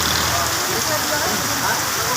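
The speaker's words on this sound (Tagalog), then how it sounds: "Ayan, medyo ulan." Rain pours steadily on a wet street during a ride, a dense, even hiss of drops hitting surfaces that fills the whole stretch with no pauses.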